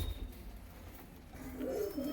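Punjabi Malwai pigeons give a low, soft cooing that swells in the second half, fairly close and alone over faint background noise.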